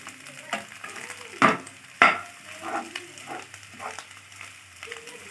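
Fish eggs fry in a pan, a soft sizzle running underneath as a spoon stirs them now and then, with two sharp scraping strokes standing out near the start and quieter stirring afterward.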